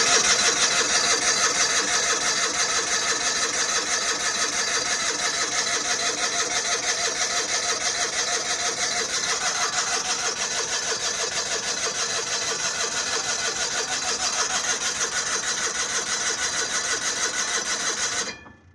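Onan engine on an old tractor at an equipment auction, a continuous close, loud mechanical cranking and running drone lasting about eighteen seconds before cutting off abruptly.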